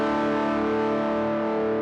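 Sustained overdriven electric guitar chord played through overdrive pedals straight into a front-of-house system with no cab filter, a harsh, buzzy, fizzy tone held steadily and loud throughout, no voices.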